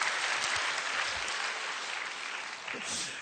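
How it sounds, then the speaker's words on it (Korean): An audience at a church testimony talk claps, a dense, even patter of applause that fills the clip on its own and fades slightly toward the end. "박수 한번 쳐줘야죠"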